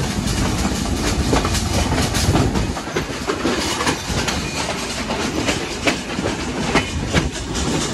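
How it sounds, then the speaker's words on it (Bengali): The Sundarban Express rolls along the rails while crossing from one track to another, its wheels making a loud, steady rumble with rhythmic clickety-clack over the joints, heard close from on board. "লাইন ক্রস করলো, এই লাইন থেকে এই লাইনে চলে আসলো আমাদের ট্রেন"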